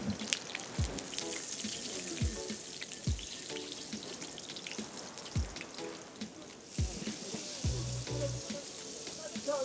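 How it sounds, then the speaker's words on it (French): Floured parrotfish fillets are lowered one by one into boiling oil, setting off a steady, close, bubbling sizzle with small drips and splashes as each piece goes in. "Et un à un, on va les placer dans l'huile bouillante."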